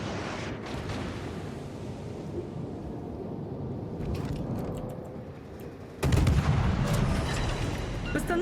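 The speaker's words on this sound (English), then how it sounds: "Angry Nerd is very excited about shooting at me right now." Naval gunfire in World of Warships with a destroyer in battle, a dense rumbling roar of distant shots and explosions that swells sharply into a louder, heavier blast of fire near the end, with no talking.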